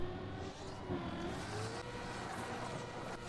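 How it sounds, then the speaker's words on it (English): High-pitched, whining car engine in the racing video game Deep Slip, a continuous buzzing drone held at a steady loud level throughout. "every time we hear the engine like zzz, like very high, it's a splice"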